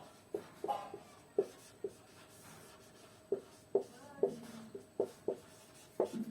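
Chalk or marker taps and scratches on a board during an electrochemistry lesson, a series of sharp, irregular strokes heard close and fairly quiet, with no speech over them.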